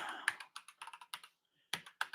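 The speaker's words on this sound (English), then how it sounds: "So I'm just typing this in for you." Computer keyboard being typed on nearby, a quiet run of crisp key clicks in uneven bursts with a short pause before a final few strokes.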